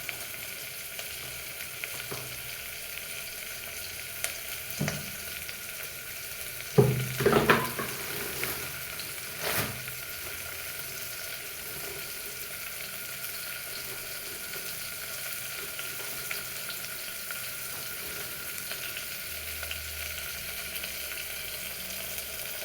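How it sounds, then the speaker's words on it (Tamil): Onions frying in a pan with green and dried red chilies for a South Indian parruppu sadam, a soft continuous sizzle with occasional stirring clinks and scrapes, quiet throughout. "வெங்காயம் நல்லா வதங்க விடுங்க."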